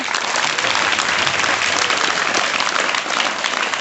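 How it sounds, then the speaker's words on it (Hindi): A classroom of students breaks into steady, dense applause, a loud continuous wash of many hands clapping together that holds evenly from start to finish with no talking over it. "ताली बजाइए।"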